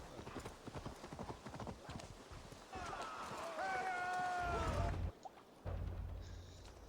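Horse hooves clip-clop in a quick galloping rhythm in Assassin's Creed Valhalla, close and steady, with a whinny partway through and game music and effects blending in toward the end.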